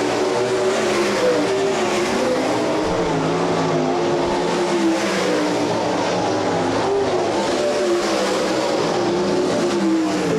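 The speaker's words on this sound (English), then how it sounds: "White flag set to fly on your opening heat race of the Property Solutions of America MSTS Sprint Cars" MSTS 360 sprint cars racing in an opening heat on a weekly-series track, a continuous loud roar of high-revving engines with rising and falling pitch as cars pass, no distinct voices.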